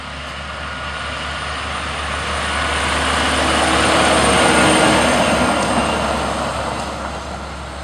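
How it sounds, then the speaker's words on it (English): Big trucks rolling past nearby, a broad roaring rush that swells to a peak midway and slowly fades as they pass, with no voices. "Those are called big trucks, in case you were wondering."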